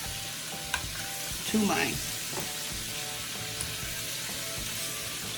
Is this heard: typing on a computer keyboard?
no